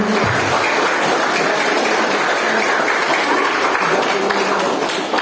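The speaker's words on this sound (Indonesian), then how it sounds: "Tepuk tangan untuk paslon nomor" Applause from a school audience for the student council candidates at a junior high debate, a dense, steady wash of clapping that fills the whole stretch with no talk over it.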